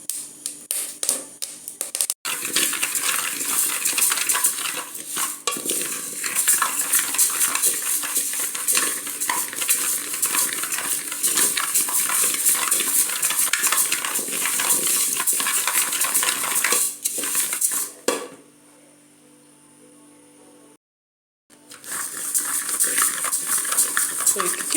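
Grains roasting dry in a pan for Tom Brown porridge flour, with a dense continuous crackle and popping plus scraping of stirring throughout, dropping out briefly near the end.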